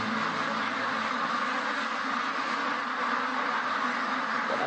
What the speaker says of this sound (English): Got another duck here, looks like it's trapped.